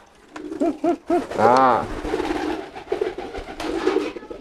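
Ordinary domestic pigeons, many of them together, coo in close, repeated rolling calls, with one long throaty coo standing out amid the flock while someone talks briefly over them.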